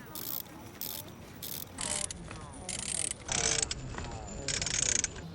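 A small ratchet socket wrench clicks in quick repeated bursts while loosening parts on roller skate wheels, close and crisp, with a voice speaking underneath.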